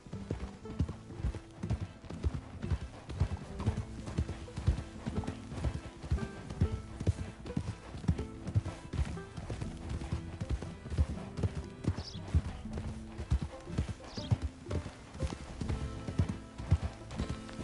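Donkey hooves clop in a steady, rolling rhythm throughout a ride in the video game Red Dead, loud and continuous, with a faint whinny-like call briefly surfacing in the middle.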